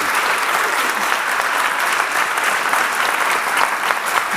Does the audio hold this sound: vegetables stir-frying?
no